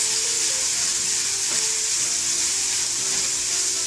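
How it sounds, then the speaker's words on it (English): Chopped onions salted and frying in hot oil give a steady, close sizzle that holds level throughout, with faint stirring scrapes now and then underneath. "to add the chopped onions into the oil"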